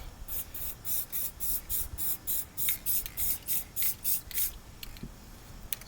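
Rhythmic bursts of a spray can laying a base coat of paint on a heavy 1926 DL&W rail, about a dozen short hissing passes in steady succession, close and alone.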